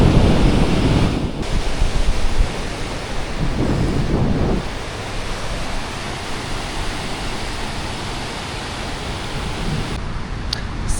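Sea waves wash onto the shore of a quiet fishermen's beach on the Son Tra Peninsula in Vietnam, a continuous loud roar of surf and wind with brief swells and no speech.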